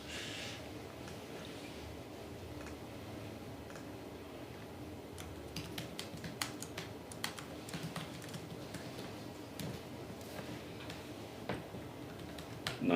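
Keys clatter on a laptop keyboard without a numeric keypad, quiet at first and then a run of light, irregular clicks and taps from about midway, faint against a low room hum during a school facilities meeting.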